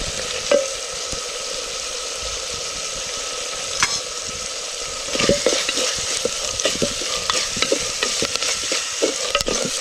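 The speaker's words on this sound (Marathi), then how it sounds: "हे सगळं वाटण आता चांगलं तेलात परतून घ्यायचं" Ginger, garlic and chilli paste with turmeric frying in oil in a clay pot, a steady close sizzle broken by repeated scraping stirs that grow busier in the second half.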